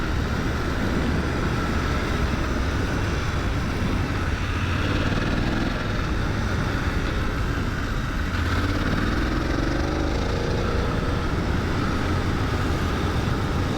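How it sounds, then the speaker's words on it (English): A brand-new BMW F 900 GS motorcycle engine recorded from a helmet microphone, droning steadily at moderate revs with gentle rises and falls in pitch, loud and continuous with no talk. "I'm not gonna rev this bike full today because it's brand new."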